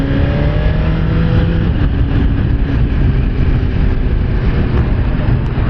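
A Suzuki GSX-R1000R sportbike engine pulls hard through everyday traffic, a loud, steady mechanical roar with rising harmonic whine that holds for several seconds without a break.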